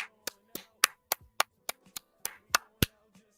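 A lone person claps about a dozen times in an uneven rhythm, each sharp slap crisp and close, with short quiet gaps between them.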